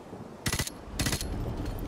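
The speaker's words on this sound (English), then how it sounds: "Bro, I'm shooting the dead guys." Gunfire in Call of Duty Modern Warfare Remastered comes as two quick bursts of rapid automatic shots, close and punchy, separated by a short pause against a low background hum.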